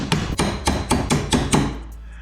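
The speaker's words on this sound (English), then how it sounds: "So now you can go ahead and just tap this out from the punch now." A hammer strikes a punch to drive out an aluminum rivet on a jon boat, six or seven sharp metallic taps in a steady rhythm, close and loud, then a pause.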